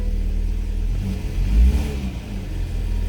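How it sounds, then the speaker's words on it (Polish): A BMW X1 engine runs just after starting, a steady low rumble close by with a brief surge in loudness midway, then settling back to an even idle. "z tego co widzę, to silnik lekko drży"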